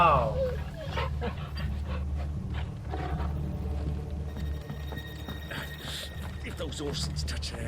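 A dog from the game Final Fantasy 16 whimpers and yips near the start over a low droning game soundtrack, with a voice talking across the clip.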